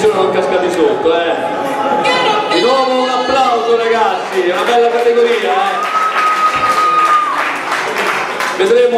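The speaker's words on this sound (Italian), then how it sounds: "Applauso." Audience applause fills the hall at the 2013 NABBA Italy Grand Prix bodybuilding competition, steady clapping mixed with music and an announcer's voice over the top throughout.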